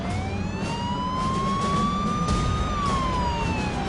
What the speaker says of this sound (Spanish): el coche se nos acercó y encendió la sirena